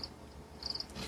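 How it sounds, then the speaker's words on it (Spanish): A cricket sound effect gives a couple of brief, faint bursts of high chirping, one short pulse at the start and a quicker cluster near the middle, over a soft background hiss. "Y pon un grillo."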